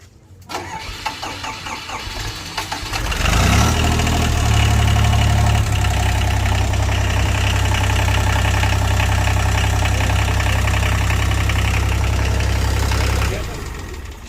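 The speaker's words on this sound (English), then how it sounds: "Then turn the key backwards for 20 seconds and then pop her right off." An International Harvester 284 diesel tractor engine cranks, catches and settles into a steady, loud rumbling idle that runs for several seconds before cutting off near the end.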